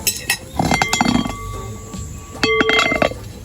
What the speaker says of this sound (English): I'm going to cover it, guys, because this pot full of food